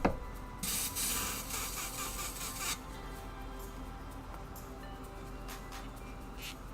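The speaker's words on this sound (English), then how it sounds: "So all I'm doing is cleaning out my airbrush real quick." An airbrush being cleaned and rinsed out, with bursts of hissing spray and air, one long burst followed by several short puffs, close and fairly quiet.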